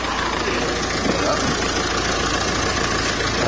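A car engine idling during a battery-charging demonstration, a steady, rough mechanical rumble with a faint knocking texture, close and continuous throughout.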